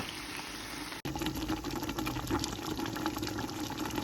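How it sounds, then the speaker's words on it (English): Water pours steadily into a pot of goat and potato curry stew in a Nigerian kitchen. After a brief cut near the start, it continues as a close, continuous splashing rush with no voices. "Now I'm going to add water."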